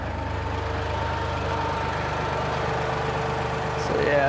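A farm tractor runs with its PTO engaged beside a hay field being sprayed, giving a steady, close, low engine drone throughout, with no talk over it.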